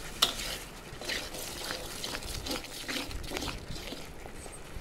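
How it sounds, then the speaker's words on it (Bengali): Yardlong beans stirred in a cooking pan, a steady low rustle with soft scraping strokes repeating through the whole stretch. "পাঁচ সাত মিনিট এটা নেড়ে নিতে হবে।"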